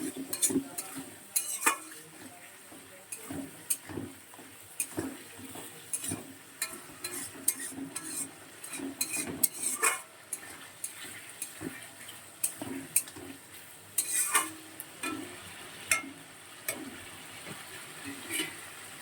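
Masala spice paste fries in a pan while a utensil stirs and scrapes it in repeated strokes over a soft, steady sizzle, close and fairly quiet, with no talking.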